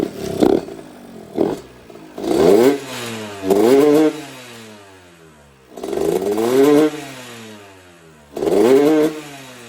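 A childhood dirt bike engine with a lean fuel mixture is hard-started, firing in several separate bursts that rev up and fall back between gaps of near silence, loud and close.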